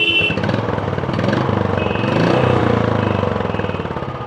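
A 2024 Royal Enfield Bullet 350 single-cylinder motorcycle engine thumps steadily nearby, its rhythmic low beat swelling briefly as the throttle is blipped and then settling back toward idle.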